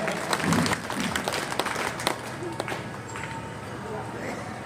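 Audience clapping at a Bhojpuri dance show, a brief burst of crowd applause that fades under a voice speaking over it.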